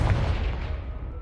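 A Confringo blasting spell explodes in Hogwarts Legacy, a single loud, dense boom that rumbles on for about a second without any talk.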